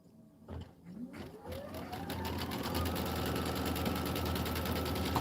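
An embroidery sewing machine stitches a placement line, its motor whirring up to speed and then settling into a steady, rapid mechanical chatter that stays close and fairly loud, with no talking over it.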